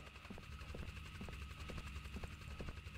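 Helicopter in the horror video game The Devil Inside, a faint, steady rotor thump with a regular chopping pulse, heard alone at a distance.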